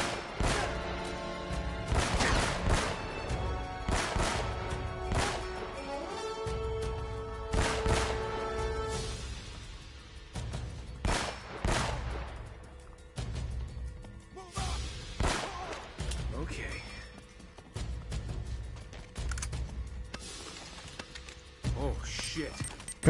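Gunfire from snipers in the video game Uncharted 1, sharp repeated shots and crashing impacts spread through the clip, loud and close, mixed with game noise.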